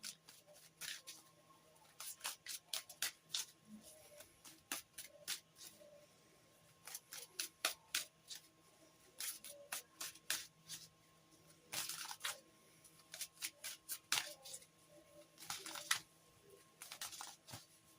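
Oracle and tarot cards are shuffled and handled in soft, quiet bursts of riffling and flicking, clustered clicks that come and go over about eighteen seconds at close range.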